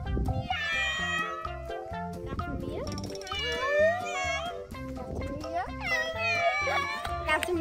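During a Brazilian family's 'Gato, mia' guessing game, a human voice imitates a cat with several drawn-out, whiny meows over background music and other voices.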